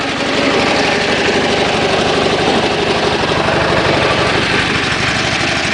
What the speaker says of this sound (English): It's an awesome tractor.